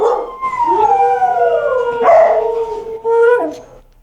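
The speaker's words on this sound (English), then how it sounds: "the dogs are actually singing the song" Several dogs howl along with a song, long rising and falling wails overlapping one another and staying loud and close throughout, with a brief yip partway through.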